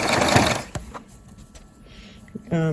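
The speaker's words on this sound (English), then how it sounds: "I'm just tucking that fabric under there and just sewing on top as I go, and just keep sewing along" Sewing machine stitching gathered fabric with lace, a brief burst of needle running at the start, then quieter handling and a short restart near the end.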